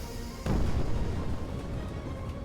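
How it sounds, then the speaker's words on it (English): A deep, booming explosion as a space station is destroyed in a space video game, striking suddenly and then rumbling on with a long, heavy low-end tail. "The space station has been destroyed."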